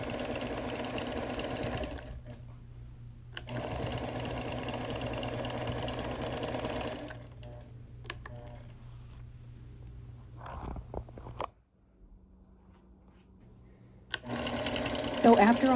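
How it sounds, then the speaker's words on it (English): A sewing machine quilts the outer border of a quilt in steady, fast stitching runs, stopping and starting several times with short pauses and a quiet gap near the end. "the first thing I did was go back and quilt the outer border"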